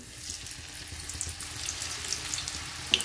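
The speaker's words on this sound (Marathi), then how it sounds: "तेल गरम झालेले, आता आपण हे कांदा याच्यामध्ये सोडून देऊ।" Onions coated in gram flour batter frying in hot oil, a steady close sizzle with faint bubbling and no talk.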